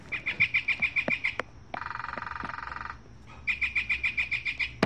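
A Wild Republic Audubon Northern Flicker plush toy plays its recorded bird call: a rapid series of repeated bright chirps, a steady fast trill in the middle, then more chirps, clear and fairly loud with no talking.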